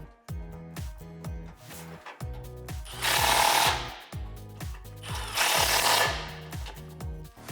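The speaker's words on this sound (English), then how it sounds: "So just get these hand threaded in here before you drive them home with your socket." Power tool with a socket running in repeated short bursts, driving exhaust bolts home on a 2011-2014 Ford F150 3.5L EcoBoost during a Roush side-exit exhaust install, with two longer, louder runs in the middle.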